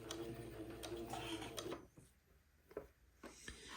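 A sewing machine runs a basting stitch on a baby wedding ensemble garment, whirring steadily for under two seconds, then stopping; a few faint clicks and handling taps follow, with no talk.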